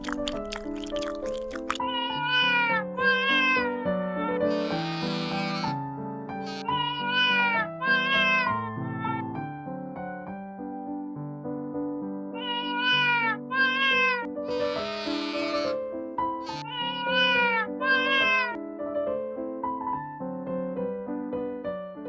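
A puma in the wild gives repeated tonal, meow-like cries in short clusters, with pauses between them; the calls stay fairly close and clear, with no talking.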